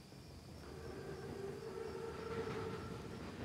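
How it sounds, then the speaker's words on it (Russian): An armored train in a Second World War shooter game rolls in with a low steady rumble and a faint sustained whistle-like tone, distant and unbroken, no voices. "Поезд прибыл вовремя."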